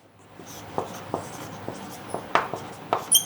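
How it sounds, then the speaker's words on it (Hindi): Pen strokes scratching across paper while writing out an example English sentence, a series of short separate scrapes and taps in a quiet room with no talking. "जैसे एग्जांपल एक लिख लेते हैं हम लोग"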